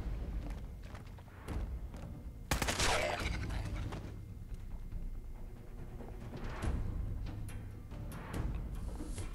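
Gunshots in the video game Fallout 4, a few scattered cracks with one louder blast near the middle, set against steady low background rumble.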